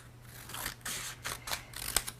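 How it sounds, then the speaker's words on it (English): Scissors snipping an index card into fins for a stomp rocket, a series of quiet close crisp cuts in an irregular rhythm, faint against a low steady hum. "using your index card, go ahead and cut yourself some fins."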